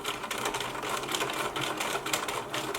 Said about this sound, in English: you can either just sew slowly or crank your wheel with a straight stitch and very slowly go right over those coils, back stitch